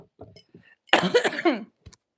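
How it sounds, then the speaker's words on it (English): One harsh, raspy cough from smoking weed bursts out close up, with faint breaths and small mouth noises just before it. "It's a weed cough."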